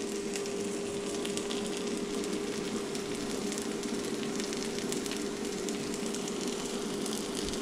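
Food sizzles in a skillet over a fire while a Southern breakfast cooks, a dense, even crackle and hiss holding steady throughout at moderate volume with no talking.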